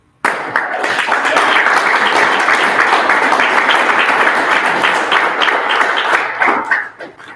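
Sustained audience applause at a political party committee meeting, loud and dense from start to finish, tapering slightly at the end, with no voices over it.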